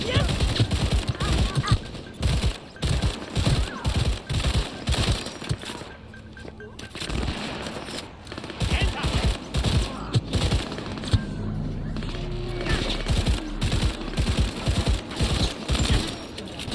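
Rapid bursts of gunfire in Cyberpunk 2077 crackle repeatedly through most of the stretch, loud and close, with brief pauses and a voice talking over parts of it.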